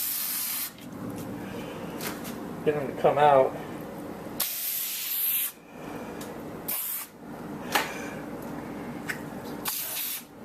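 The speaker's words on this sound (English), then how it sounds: "starting to see more movement just from the injecting the aerosol of the cracks and crevices" Aerosol insecticide hissing in repeated bursts as it is injected into cracks, crevices, seams and joints during German cockroach control, with short pauses between sprays and someone talking over parts of it.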